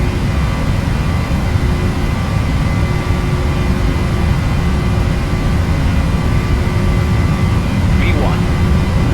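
Jet airliner engines roaring steadily during a takeoff roll in the Prepar3D flight simulator, on a Norwegian Virtual flight from ENGM to ENBR, a loud constant drone with a faint whine and brief cockpit chatter over it.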